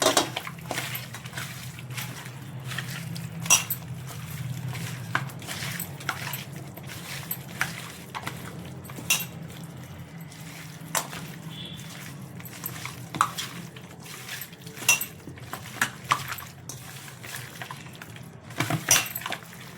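Mutton being mixed by hand with salt, turmeric, ginger and garlic marinade in a pot, giving soft squelching stirs and light clinks against the vessel, fairly close, with a low steady background hum and no talk.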